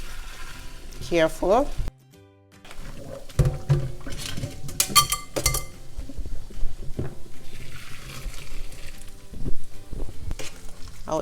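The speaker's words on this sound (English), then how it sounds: "I cannot hold it while emptying this water because the water is hot" Hot pasta water poured from a pot through a strainer set over a bowl in a home kitchen, with splashing, metal clanks and pot knocks, and a voice briefly speaking.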